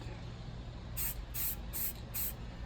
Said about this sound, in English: I'm gonna spray it with the primer.